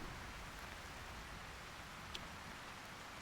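Steady rainfall in the video game Thronebreaker: The Witcher Tales, a soft, even hiss of rain that stays faint and continuous, with one brief tick partway through.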